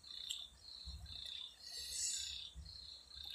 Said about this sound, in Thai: เสียงกบเสียงเขียดเสียงจิ้งหรีดเสียงอะไรไม่รู